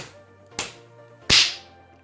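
Two sharp pops of Pop Pop Pets Snotz toy bubbles bursting, the second louder and brighter, close and alone.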